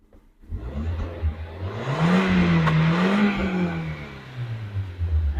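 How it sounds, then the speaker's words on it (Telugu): Hyundai i10 Magna petrol car engine idling and briefly revving, a smooth near hum that rises and falls once before settling, heard alone without talk. "ఇంజన్ కూడా చూసుకోండి, చాలా అంటే చాలా సైలెంట్గా ఉందండి ఇంజన్ కూడా"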